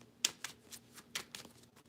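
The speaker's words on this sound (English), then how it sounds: "I'm shuffling and then I'll have you pick two numbers" Tarot cards shuffled by hand, about six soft riffling bursts in quick succession, close and fairly quiet with no talking.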